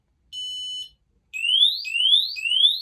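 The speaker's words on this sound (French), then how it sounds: "Donc là, on a l'alarme qui se met en route. On a une alerte intrusion" A Squidd Home intrusion alarm sounding: one steady electronic beep, then a loud repeating rising siren-like whoop, three sweeps in quick succession.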